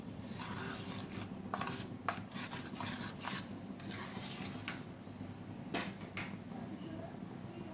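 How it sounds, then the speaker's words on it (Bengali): Melted butter whisked into batter for a lote fish (Bombay duck) fry, a steady run of scraping, rubbing strokes in a bowl with a continuous low kitchen rumble underneath. "দেখো ব্যাটারের মধ্যে দিয়ে আমি ভালো করে এটাকে ঘুটিয়ে নিচ্ছি।"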